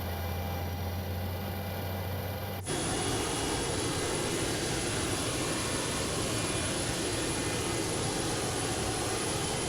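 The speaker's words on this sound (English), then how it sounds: "Engines are spooling up." Boeing 727-200F jet engines spooling up in Microsoft Flight Simulator, starting as a low hum with a whine, then abruptly swelling into a loud, broad roaring rush with a high steady tone that stays loud to the end.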